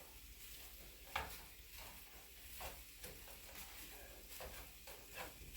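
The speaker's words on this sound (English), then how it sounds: "What I'm doing here is I'm chopping up my hamburger." Ground beef hamburger sizzles as it browns in a pan while being chopped up, giving a soft, steady frying hiss broken by occasional faint scraping taps, distant and quiet, with no talking.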